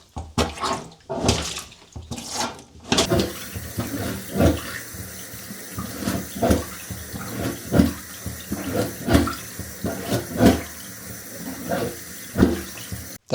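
A plunger works a clogged shower drain, its repeated rhythmic squelching pumps and gurgling water bursts coming close and loud, about once a second, over a wet hiss.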